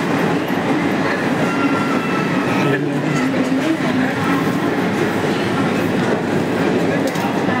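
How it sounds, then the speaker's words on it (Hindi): A train rumbles through Titwala railway station, with steady rolling wagon noise and rail clatter, a brief squeal partway through, and people talking in the background. "अभी मैं टिटवाड़ा स्टेशन पे हूँ और यहाँ से निकल जाने का मुझे अम्बरनाथ जो ट्रेन लगी है"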